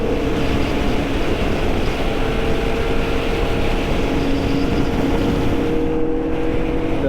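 Motorcycles on a group ride, including a Vulcan 650, with a steady, loud engine drone and wind roar throughout and no talk.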